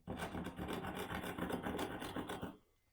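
A Japanese pull saw cuts across the grain of wood in quick, rhythmic rasping strokes, close and regular, ending as the cut stops near the end.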